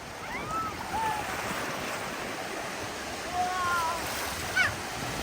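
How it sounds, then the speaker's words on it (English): Ocean surf rolling in on a beach, a steady broad wash of breaking water with wind noise on the microphone and scattered faint calls over the top. "Here comes the wave. Get ready to jump."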